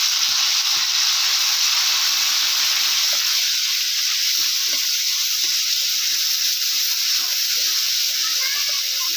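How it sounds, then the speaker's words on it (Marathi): Ground chutney roasts in a pan with cumin, producing a loud, steady hissing sizzle with scattered soft crackles and faint scraping underneath, close and continuous. "आता ह्याच्यामध्ये आपण ही वाटलेली चटणी ना ह्याच्यामध्ये टाकायची चटणी आपल्याला चांगली अशी भाजून घ्यायची"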